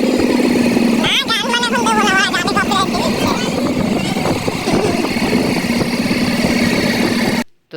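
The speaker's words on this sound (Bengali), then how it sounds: "তারপরে যে আমরা বাইকে করে যাচ্ছি" A motorcycle ride carries a constant, loud roar of engine and wind rushing past for several seconds, with people talking over the noise before it cuts off abruptly.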